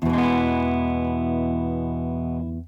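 A single clean electric guitar chord through a G3 Atom with two amps rings out, rich and sustained, slowly decaying before being muted after a few seconds.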